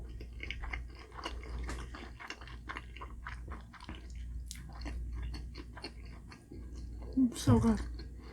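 Close, quiet chewing of a shrimp wonton in chili oil at a dim sum meal, with soft wet bites and crunchy clicks over a low room hum, ending in a brief murmured voice.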